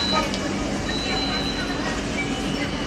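LRT Jabodebek light rail train pulling into Bekasi Barat station, a steady rumbling rail roar with faint wheel squeal, heard from inside the car.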